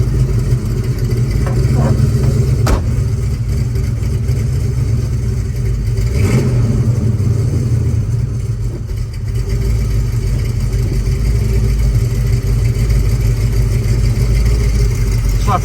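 A 1967 Chevrolet Chevelle Custom with a 383 engine rumbles steadily from inside the car as it drives off, a low continuous engine drone with a few clicks and clatters over it.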